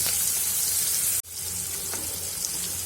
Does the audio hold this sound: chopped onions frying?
yes